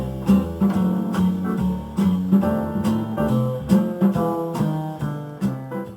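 A jazz backing track for guitar soloing plays with walking bass and chord stabs in a steady swinging rhythm, loud and clear with no voices.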